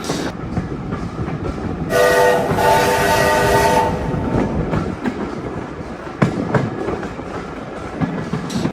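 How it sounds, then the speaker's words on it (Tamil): A train passes through countryside near Smallbrook Junction, its horn sounding for about two seconds over the rumble and clickety-clack of the wheels on the rails, heard fairly close by. "ஸோ இந்த ட்ரெயின் வந்து நல்ல அழகான இடத்தரத்தையும் கடந்து போகும்"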